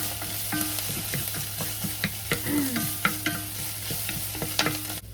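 Garlic and red curry paste frying in a pan, a close steady sizzle with repeated scraping stirs of a utensil against the pan, no talk.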